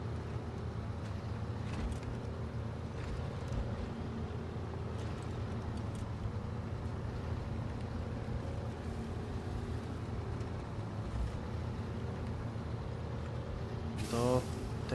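A truck in the SnowRunner video game on hard mode drives along with a low, steady engine rumble, continuous and fairly quiet, ending with a brief sharp burst.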